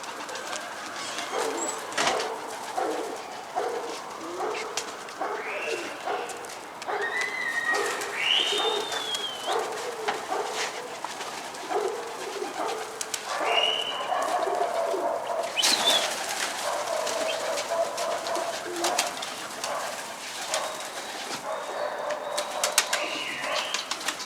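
Pigeons cooing repeatedly at close range, with intermittent soft fluttering of wings in the background as a sick pigeon flaps on the ground.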